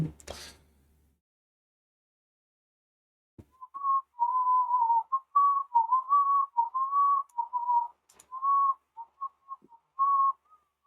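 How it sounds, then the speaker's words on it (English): Melodic whistling, a person whistling a wandering tune in short phrases with brief pauses, clear and fairly close, after a sharp knock near the start. "I can hear you whistling in Discord and in real life"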